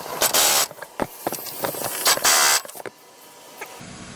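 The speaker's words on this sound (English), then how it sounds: "To achieve that, you're going to use impact." Impact wrench tightening brake caliper bolts on a Corvette during a C3-to-C5 front caliper retrofit: loud, close rattling bursts in several short runs, separated by brief pauses and ending in quieter clicks.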